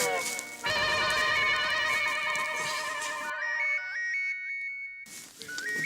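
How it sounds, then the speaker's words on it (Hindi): A mobile phone rings loudly with a bright, melodic ringtone that repeats its tune, cuts off briefly, then starts again. "फोन अटेंड नहीं करूंगा तो फिर फोन पे फोन करती रहेगी"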